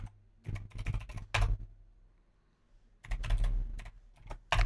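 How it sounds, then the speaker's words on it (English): Two bursts of rapid keyboard typing, close and crisp, separated by a short quiet pause. "I'm typing with a mic in front of my face"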